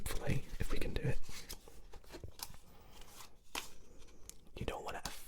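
A deck of playing cards being cut repeatedly by hand without shuffling, producing soft papery slaps and riffling scrapes in irregular bursts, close and fairly quiet.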